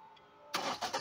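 A car engine starts in the driving game Car Driving Online: a quiet hum, then a sudden loud crank and catch with a couple of rough revving pulses, brief and close.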